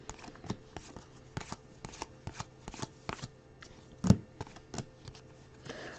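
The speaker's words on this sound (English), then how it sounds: "because there's a lot of cards to look at in here." Bowman Chrome baseball and basketball trading cards being handled and sorted, a close run of crisp flicks and slaps at an uneven rhythm with one louder snap, no talk.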